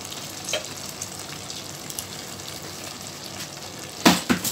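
Mutton sizzles steadily as it fries with garlic, ginger, coriander, chilli, lemon and green chillies over medium heat. A constant close crackle runs throughout, and a few sharp utensil scrapes and clanks come near the end.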